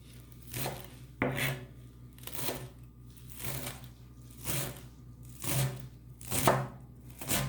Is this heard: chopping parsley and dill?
yes